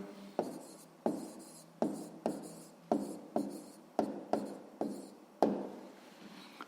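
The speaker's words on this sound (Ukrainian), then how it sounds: "записуємо тоді відповідь" Pen strokes on paper while working out a sixth-grade math exercise answer: about a dozen short, sharp scratches in an even rhythm, each fading quickly, close and clear with no voices.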